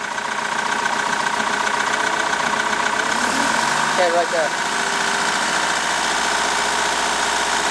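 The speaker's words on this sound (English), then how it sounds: "I think it has a little bit of a bottom end noise, so we're gonna run it at fast idle for a little bit." A boat engine runs at fast idle, a steady loud mechanical drone with a faint knocking bottom-end noise, while people talk briefly over it.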